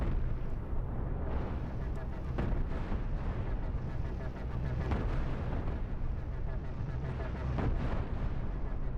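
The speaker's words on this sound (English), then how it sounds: "The cannons are gonna win for sure." Cannons fire in the space-combat game Cosmoteer as ships battle, producing a dense, continuous barrage of booming, crackling blasts at steady loudness for about nine seconds.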